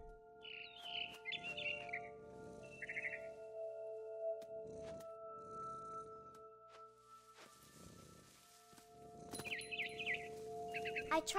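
A frightened bird in the video game What Remains of Edith Finch gives scattered bursts of quick, high chirps between muffled thuds and rustles, all over a low constant hum.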